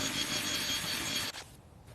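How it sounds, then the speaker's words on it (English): A power drill whirs steadily through a bucket of groundbait mixed for lake feeder fishing, a dense grinding buzz that cuts off abruptly near the end. "got my drill"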